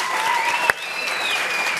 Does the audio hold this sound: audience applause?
yes